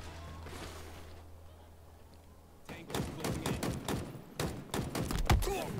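Rapid bursts of commando rifle gunfire in a video game, sharp repeated cracks in quick succession over the last half, preceded by a low hum and quieter background.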